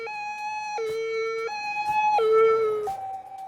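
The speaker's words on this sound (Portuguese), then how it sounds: "Ouça o som da ambulância se distorcendo conforme ela passa" An ambulance siren wails in a loud, steady two-tone hi-lo pattern, swapping between a higher and a lower note about every three-quarters of a second, with no voices.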